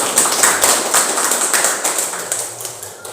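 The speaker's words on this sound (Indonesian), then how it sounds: "tepuk tangan dulu buat pejuang-pejuang kita" An audience claps for the independence fighters at an Islamic organisation's installation ceremony, producing a steady patter of many hands. It stays fairly loud and continuous, with no talking over it.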